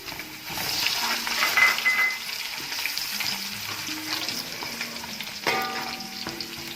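Onions fried golden brown with ginger added sizzle steadily in a pot, stirred with scraping utensil strokes, moderately loud with a few brief tonal clinks.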